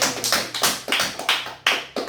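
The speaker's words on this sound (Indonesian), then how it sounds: "Oke, tepuk tangan." Short burst of hand clapping from a primary school class, with several uneven claps repeating through the moment, fairly close and without talk.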